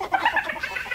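Chicken clucking up close, a rapid run of short, bright clucks from a farm hen, loud and continuous with no voices over it.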